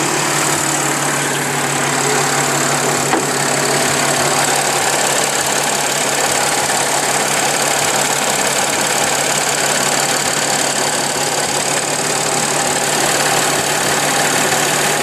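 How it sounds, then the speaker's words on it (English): A supercharged car engine idles steadily just after starting, with a close, loud, even rumble and a constant belt whine running unbroken throughout. "we'll start the car, make sure everything is going good"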